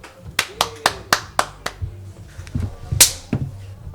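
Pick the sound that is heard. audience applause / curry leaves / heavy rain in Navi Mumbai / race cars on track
audience applause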